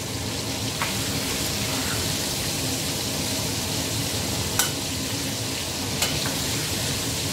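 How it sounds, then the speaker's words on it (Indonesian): Marinated meat on the bone frying slowly in oil, giving a continuous close sizzle and crackle with a few sharp pops standing out, no talking. "Gorengnya itu harus alon-alon,"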